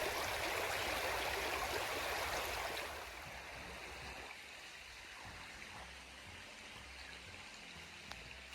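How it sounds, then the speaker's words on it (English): Ellis River in New Hampshire rushes steadily downhill beside a trail, a broad continuous wash of flowing water, loud at first and then settling to a softer, even murmur. "Ellis River is a ribbon-like body of water that flows downhill from the force of gravity."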